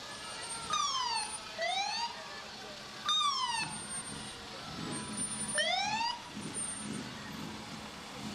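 Fire trucks rolling past during a Halloween parade, sirens sounding in several rising and falling sweeps, fairly close and loud over a steady crowd and engine rumble.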